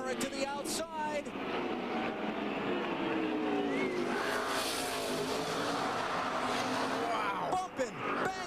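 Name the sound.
NASCAR stock cars racing at Martinsville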